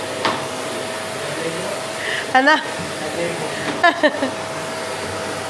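A vacuum cleaner drones steadily and fairly loud from start to finish, while a voice briefly speaks over it twice.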